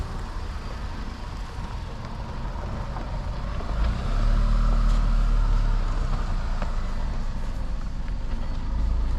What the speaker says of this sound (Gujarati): ગાડી જઈ રહી છે આપણી.